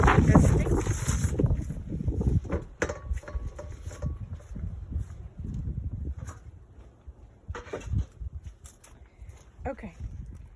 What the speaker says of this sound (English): The wind is blowing out here now.